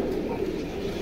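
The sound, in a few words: male pigeons cooing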